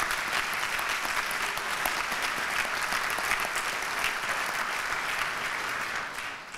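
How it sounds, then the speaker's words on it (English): An audience at a gold induction ceremony gives Governor Askew a full, sustained round of applause, a dense and loud wash of clapping that eases off slightly at the very end. "We should give him a round of applause."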